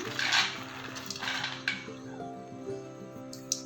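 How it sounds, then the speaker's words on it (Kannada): Sprouted mung beans tumble into a salad bowl with a few quick, light clattering bursts near the start, set against steady background music. "ಸಾಲಡ್ಗೆ ಹೆಸರು ಕಾಳು ಹಾಕ್ಕೋತಾ ಇದ್ದೀನಿ"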